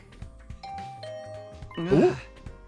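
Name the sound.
doorbell ringing in a video game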